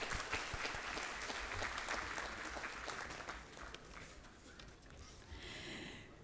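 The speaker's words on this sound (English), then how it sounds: "A big round of applause to the team AIOS." Audience at an ophthalmological society annual conference applauds the organising team, steady clapping from a large hall that thins out toward the end.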